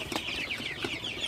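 Sonali super hybrid chickens, 48 days old, chirp and cluck in quick repeated calls inside a poultry shed, close and moderately loud with no talking.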